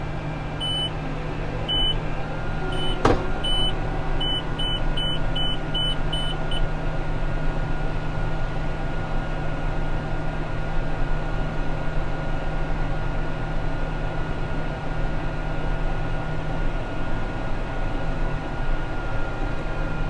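A tractor drives across a field, heard from inside as a steady, loud engine drone and low rumble that runs throughout, with a few short electronic beeps from the guidance system in the first seconds.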